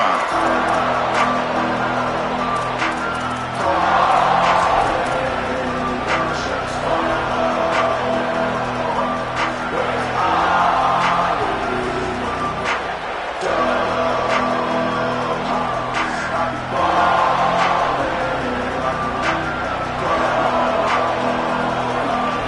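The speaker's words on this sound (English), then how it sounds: "this crowd is fired up. Listen to this noise here." A large crowd at a football game roars continuously in an open stadium, a dense wash of cheering that swells in waves over several seconds.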